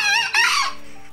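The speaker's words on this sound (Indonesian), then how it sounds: "Kita mau lihat Green Jungle Fowl, ayam hutan hijau." A green junglefowl gives a short, loud, close crowing call: two quick harsh rising notes fading out within about a second, with nothing else heard.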